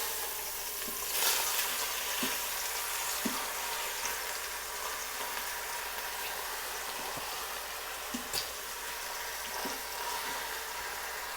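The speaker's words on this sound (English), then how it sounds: "you want to make sure you get a good sear on both sides of each piece of pork" Pieces of pork searing in the metal inner pot of an Instant Pot, a steady close sizzle and crackle of frying fat throughout, with a few soft clinks and stirring knocks from flipping the meat.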